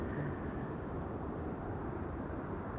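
An airplane departs Amsterdam Schiphol Airport, a broad steady engine rumble heard from a distance without talk.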